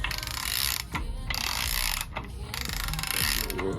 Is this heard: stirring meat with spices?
no